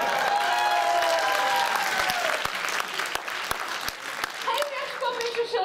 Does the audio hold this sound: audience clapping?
yes